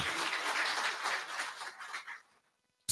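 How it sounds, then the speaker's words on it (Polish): Audience applause for sponsors at a rescue-medicine symposium ceremony in Grudziądz: a thick burst of clapping that thins and fades out over about two seconds, then a sudden loud sound at the very end. "Wielkie brawa dla naszych sponsorów."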